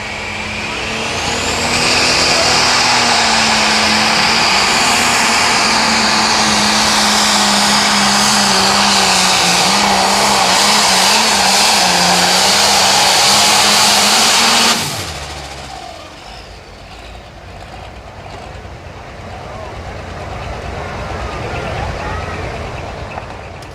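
A limited pro stock pulling tractor roars at full throttle for about fifteen seconds during a tractor pull at Mound City, Missouri, then cuts off abruptly, leaving crowd murmur and a faint announcer's voice.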